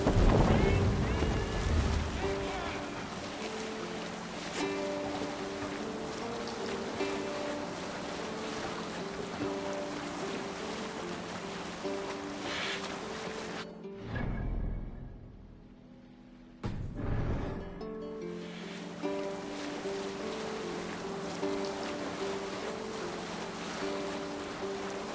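A sailing ship moves at sea in Assassin's Creed Valhalla, a continuous rush of wind and waves with a low rumble under faint music, briefly dropping out midway before resuming.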